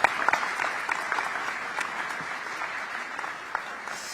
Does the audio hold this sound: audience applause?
yes